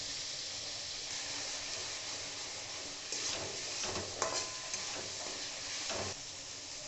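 Turmeric, cumin, coriander and chilli powder sautéed with tomato in hot oil, heard as a steady, soft sizzle with a few faint stirring scrapes midway.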